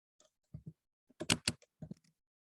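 Keystrokes on a computer keyboard typing a short entry, a few scattered clicks followed by a quick burst of taps and a last small cluster, close and fairly quiet with no talking.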